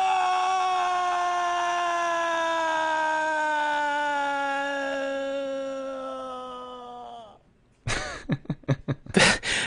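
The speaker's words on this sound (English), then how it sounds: "V plays falling scream instead of taunt" A falling scream from the game Overgrowth, played in place of a taunt, holds a long wailing cry whose pitch slides steadily downward for about seven seconds before cutting off, followed by a burst of choppy, clicking sounds.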